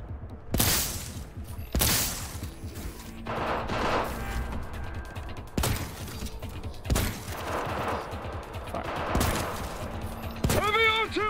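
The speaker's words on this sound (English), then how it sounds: "Heavy artillery!" Repeated heavy gunfire bursts in Cyberpunk 2077 on Hard Mode, loud broadband blasts spaced every second or two across the scene with a steady rumble beneath and a faint voice mixed in.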